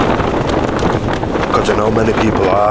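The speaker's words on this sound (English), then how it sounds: "This wind." Strong gale-force wind buffets the microphone on a Peak District camping trip, a constant loud roar and rumble running beneath a person talking throughout.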